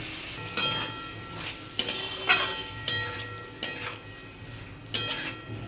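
Lote fish (Bombay duck) is stirred in a hot wok, with a spatula scraping and clacking about six times at uneven intervals over a soft, continuous frying sizzle.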